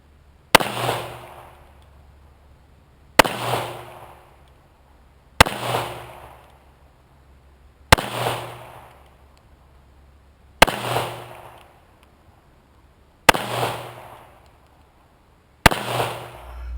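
A Taurus PT1911 .45 pistol fires seven evenly spaced sharp shots at steel plates outdoors, each crack followed by a short decaying echo.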